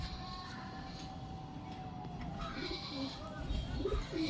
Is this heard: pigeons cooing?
yes